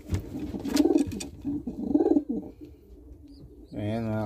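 Pigeons in a loft give two clear, close, rolling coos in a row, followed by quieter shuffling and a brief voice near the end.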